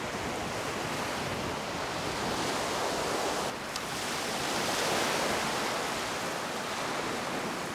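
Sea waves wash steadily onto the beach at Hồ Bể, a continuous broad rushing surf with wind noise across the microphone, swelling slightly midway with no voices.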